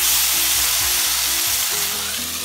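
Potatoes frying in a pan for aloo fry, a dense, loud sizzle with a quick series of stirring scrapes, close and continuous.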